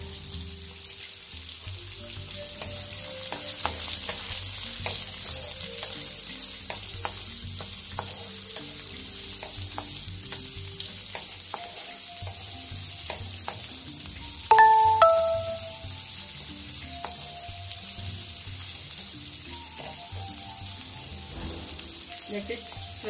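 Two medium onions, about one bowlful, fry steadily in a pan, a continuous sizzle with scattered crackles and a brief louder clatter of stirring midway, close and alone without talk.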